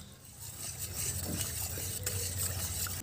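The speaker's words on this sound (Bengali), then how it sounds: "খেজুরের গুড়টা ভালো করে দুধের মধ্যে মিশিয়ে নেব।" Date palm jaggery being stirred into milk for an eggless cake batter, a soft close scraping swirl with light clinks of a spoon against the vessel, quiet and steady.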